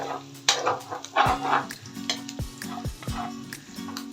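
Garlic frying in oil in a pan for pata humba, a soft continuous sizzle with stirring scrapes and clinks; a dog barks a few times nearby.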